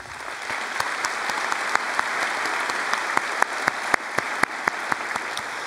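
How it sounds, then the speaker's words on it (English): Steady applause fills a Chaska High School 2014 graduation ceremony, a broad wash of clapping from a large crowd with sharp individual claps popping out nearby in a loose rhythm. "How about a round of applause for those students"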